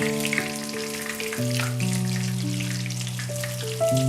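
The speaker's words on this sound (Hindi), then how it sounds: "वन साइड से ये फ्राई हो चुका है। अब हम इसको टर्न करेंगे।" Chicken shami kababs sizzle steadily in a frying pan, a constant close crackle of hot oil that runs under sustained background music.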